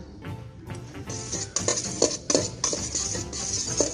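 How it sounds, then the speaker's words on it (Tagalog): A utensil stirs and tosses seafood ramen salad in a bowl, with soft scraping, a few sharp clinks against the dish and quiet mixing in between. "Tapos, hahaluin nyo lang."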